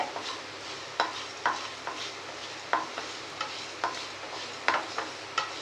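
Coriander seeds roasting in a pan over a low flame for chutney, stirred with regular scraping strokes about every half second over a soft dry rustle.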